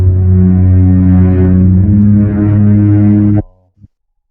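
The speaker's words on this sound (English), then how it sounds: "bass and cellos together." Double bass and cellos playing together in a low, sustained bowed passage, rich and full, holding steady chords for about three seconds before stopping abruptly, with a faint short sound after.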